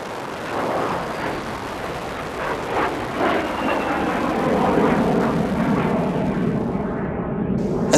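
A de Havilland Tiger Moth biplane's engine drones steadily through a test flight, a loud rough broadband roar with wind rush that holds for several seconds before ending in a sudden cut.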